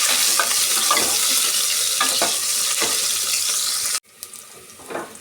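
Chopped onion and curry leaves fry in a pan for a spinach saru, giving a loud, steady sizzle with stirring scrapes for about four seconds before it suddenly drops to a faint, quieter crackle.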